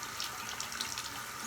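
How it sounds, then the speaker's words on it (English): Tap water runs steadily as an Xbox disc is wetted under it, a continuous close hissing splash at even loudness, with no talking. "put the disc in water."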